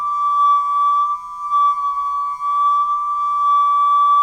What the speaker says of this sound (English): Now listen to that note getting louder.